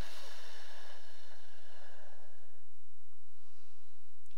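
Deep breathing during a pole yoga posture exercise, a long slow exhale that fades over a steady low hum, followed by quieter breaths, close and alone.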